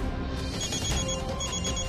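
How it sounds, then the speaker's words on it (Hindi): A landline telephone rings in a household scene of a Hindi television serial, a fairly loud steady ring over low background noise. "जया का फोन होगा।"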